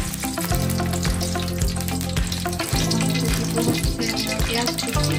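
Oil is poured into a hot pan for a goat kidney kebab, setting off a loud, steady sizzle that runs the whole time, with light stirring clinks close by.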